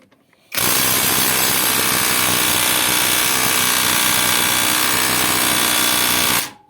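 WORX 272.9 impact wrench driving a bolt tight into a vise, a loud continuous hammering whir that starts abruptly, holds steady for about six seconds and then cuts off, with no talk.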